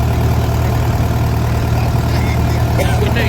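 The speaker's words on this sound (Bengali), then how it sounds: "বোট ঘোরাচ্ছে এবার।" A boat engine rumbles loud and close at a steady low throb as the boat turns around near a cremation ghat in Varanasi, with faint voices underneath.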